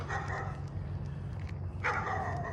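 Dogs barking faintly at a distance over a steady low rumble, a handful of short barks scattered through the clip.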